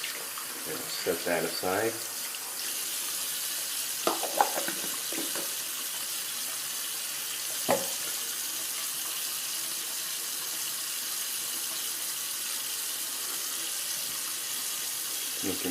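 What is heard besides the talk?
water running from tap, rinsing shaving soap puck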